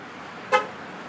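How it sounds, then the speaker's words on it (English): An AutoPAGE basic alarm on a 2009 Dodge Ram 1500 gives a single short, sharp chirp for lock or unlock, fairly loud against a steady low background hum. "AutoPAGE lock and unlock."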